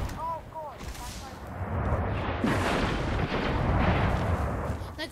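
Gunfire and heavy booming explosions fill a Destiny Crucible multiplayer match, a dense continuous barrage with a brief electronic chirp near the start, no speech over it.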